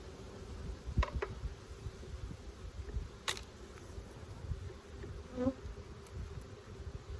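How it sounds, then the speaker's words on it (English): Disturbed bees buzzing in a low, continuous hum close by as a heavy honey frame is worked, with a few sharp clicks and taps breaking through the quiet drone. "We're making some bees mad now."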